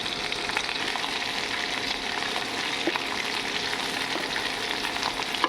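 Eggplant and green peas fry in a pan for a mixed winter vegetable dish, giving a steady, close, dense sizzle that holds at an even level throughout with no talking.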